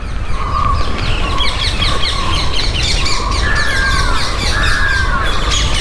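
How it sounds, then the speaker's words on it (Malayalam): Birds chirp and crows caw repeatedly in a Bengaluru city park, their calls rising over steady loud background noise, with no talking. "ഇഷ്ടംപോലെ കിളികളുണ്ട് കേട്ടോ."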